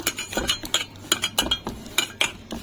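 Ground lentil paste is mixed in a bowl with salt, chilli powder, ginger paste, turmeric and black cumin. A spoon clinks and scrapes against the bowl in quick, irregular strokes, close and fairly quiet.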